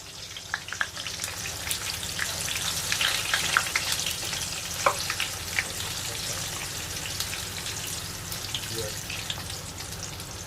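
Puri frying in hot oil makes a steady, close bubbling sizzle scattered with small pops and crackles, moderately loud and with no voices.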